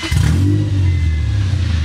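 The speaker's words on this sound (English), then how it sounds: "We'll go ahead and fire up the car." A car engine with an open header and no finished exhaust fires up, settling into a loud, steady, deep idle rumble right up close.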